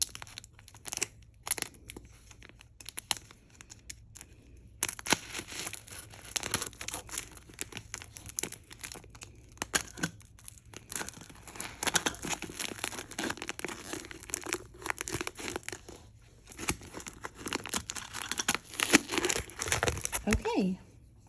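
A sealed vintage jewelry jar is cut open and unwrapped, with bursts of crinkling, tearing and crackling packing material up close, broken by short pauses and quiet talk.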